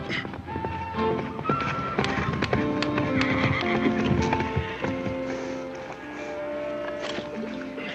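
Hooves clip-clop steadily while a horse neighs and whinnies, with creaks and jangling tack mixed in, fairly close.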